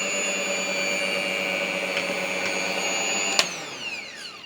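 A steady high-pitched whine of an electric beater whipping cream to make butter, running continuously, then a clunk as it winds down and the pitch falls away.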